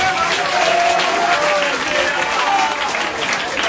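A church congregation applauds and cheers in praise of the Lord, a dense, steady wall of clapping and crowd noise filling the whole moment without a break.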